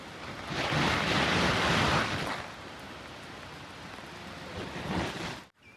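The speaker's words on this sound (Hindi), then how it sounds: "सो यहाँ से और ब्यूटीफुल दिख रहा है भाई वाटरफॉल" Jog Falls waterfall in Karnataka, India, heard as a broad roaring wash of falling water, loud at first, then easing to a steady rushing hiss before cutting out abruptly.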